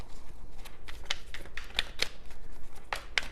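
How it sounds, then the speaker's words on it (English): Tarot cards being shuffled by hand, a series of crisp riffling and snapping bursts at an irregular pace over a quiet room, close and moderately loud, with no talking. "let me give this a shuffle"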